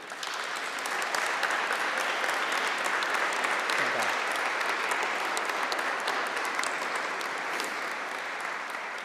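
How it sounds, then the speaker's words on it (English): Graduation ceremony audience in an abbey breaks into long, dense applause, a steady wash of many hands clapping that fills the hall, with faint voices underneath. "So graduands, let's give a heartfelt round of applause to those who have helped you, graduands, reach this moment"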